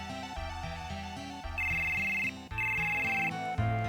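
A cell phone ringtone in Final Fantasy VII plays a bright, repeating electronic melody of stepped tones with sustained high notes, fairly loud and steady for several seconds with no voices.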